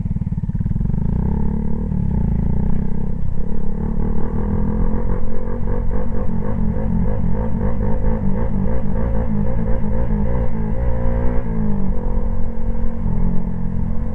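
A Honda Grom motorcycle engine drones loud and close throughout, with a steady low rumble and rising and falling revs as it is ridden, without pauses or speech.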